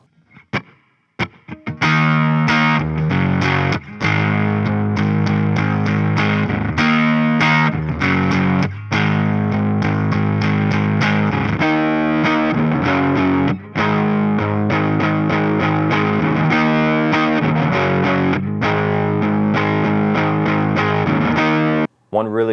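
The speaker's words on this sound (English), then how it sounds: "Now we're going to compare it with the SG for overdriven humbucker tones." Overdriven electric guitar tone from a Gibson SG with humbucker pickups, loud and continuous with distorted chords and riffs that ring steadily throughout.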